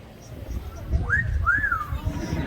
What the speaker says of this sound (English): A little bit of a whistle to get the girls' attention.